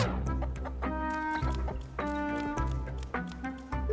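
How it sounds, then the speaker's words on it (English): Chicken clucking in the video game Infinity Nikki, a few short clucks mixed into a layer of steady, tuneful game music. "Why we all mad at this poor little chicken?"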